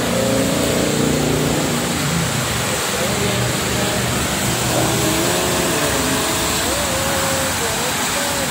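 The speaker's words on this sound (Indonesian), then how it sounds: "Ini bis-bis Prima Jasa, lihatin per menit ini." Prima Jasa buses and other traffic pass steadily on the Jakarta–Cikampek toll road, a continuous loud roadside wash of engines and tyres with a voice speaking over it.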